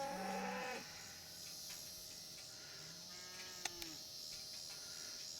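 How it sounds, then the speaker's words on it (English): Longhorn cattle along Route 44 across the South Dakota prairie: one low, drawn-out moo at the start, then faint distant lowing under steady wind and road noise, with a couple of sharp clicks. "Longhorn cattle."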